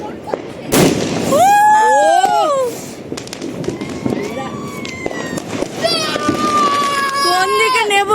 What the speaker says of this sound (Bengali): চারিদিকে বাজি আর বাজি,